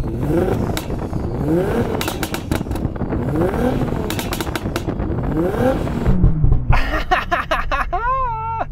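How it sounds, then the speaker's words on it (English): A Nissan GT-R engine revs up and down repeatedly, rising and falling in pitch, loud and close, ending in a few sharp higher-pitched revs. "I'm going to rev up this GTR now because it sounds good"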